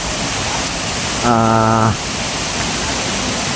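Running water at Orok Falls, a mountain-fed waterfall, pours as a steady, loud broadband rush throughout, with a brief tonal hum layered over it near the middle.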